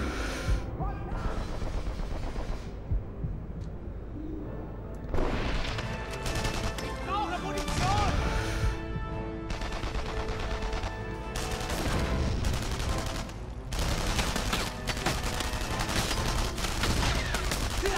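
Cannon and gunfire sound in the World War II shooter Enemy Front. Dense bursts of rapid shots and heavy booms come in waves, loud and chaotic across the whole stretch.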